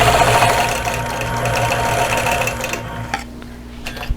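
A sewing machine stitches in the ditch on a tessellating star quilt, running loud and steady with a whirring mechanical drone for about three seconds before slowing and stopping.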